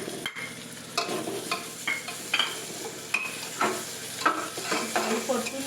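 Ginger, garlic and green chili paste sautéing with onion in a pan, a steady close sizzle broken by repeated scraping strokes of a spoon stirring through the mixture.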